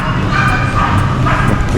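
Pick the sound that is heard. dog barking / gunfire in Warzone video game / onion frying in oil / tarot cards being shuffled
dog barking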